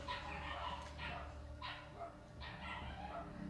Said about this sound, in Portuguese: Desculpa, os cachorros continuam. Ai, pincher, né?